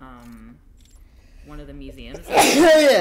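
A loud, close single sneeze bursts out after a pause in speech, following casual chatter by a person.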